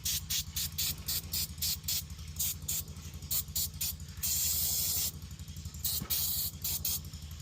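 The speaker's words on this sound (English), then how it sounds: "A cleaner, we just spray that thing down there." Cleaner is sprayed beneath a 2024 Mercedes-Benz Sprinter during an oil change: a close run of sharp, rapid hissing bursts, then a longer continuous spray, over a low steady hum.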